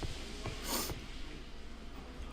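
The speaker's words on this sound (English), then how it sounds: "Sorry, I'm sniffling now." A person sniffles after a sneeze, a quick nasal snort standing out briefly in the middle of a short, quiet stretch with faint background noise.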